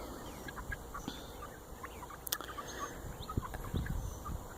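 Backyard chickens in a garden area inside a temporary fence, clucking and calling faintly in short scattered bursts against soft outdoor background noise.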